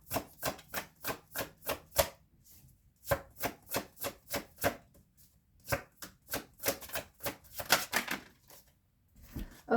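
A deck of divination cards is shuffled in quick rhythmic bursts of crisp riffling clicks, close and fairly quiet, repeating in runs with short pauses between.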